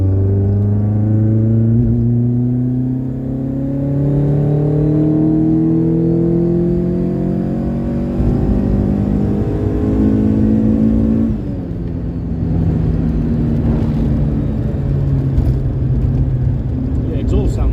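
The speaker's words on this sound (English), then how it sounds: "exhaust sounds definitely different" A VW Mk2 Golf GTI 16v exhaust drones and rises as the car accelerates through the gears, engine note climbing steadily, dipping at a shift, then building again, close and loud inside the moving car.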